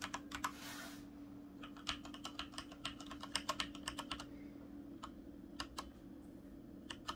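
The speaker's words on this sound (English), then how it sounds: "Now some keys, just pushing lightly" Someone types on a Corsair K70 mechanical keyboard, pressing the keys lightly. Crisp, close clicks come in an irregular rhythm over a low background hum, with a short burst of noise near the start.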